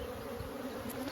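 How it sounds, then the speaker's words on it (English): Honey bees swarm and buzz in an open hive during a yard inspection, a dense continuous drone close by with no voices. "which there's a lot of bees"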